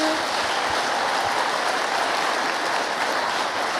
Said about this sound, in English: everybody else give them a round of applause